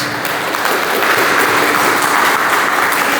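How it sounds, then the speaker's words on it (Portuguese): A congregation at a church service applauds loudly, a thick, continuous wash of clapping from many people that stays even and close throughout. "Aplauda esse Deus"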